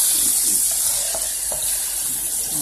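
Shrimp, 50-count Gulf of Mexico shrimp, frying in hot oil for Cajun po-boys, giving a steady close, loud sizzle throughout with a few faint stirring clicks and no talk.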